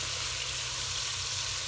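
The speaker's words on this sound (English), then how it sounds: "just to fry the kafta a little bit from outside" Kafta meatballs frying in a pan give off a steady, close sizzle with a constant hiss and no voices over it.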